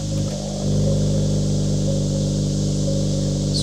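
The exhaust of a 2024 Acura Integra Type S gives a steady, deep, loud engine drone that swells slightly after a brief dip and then holds evenly to the end, with no talking.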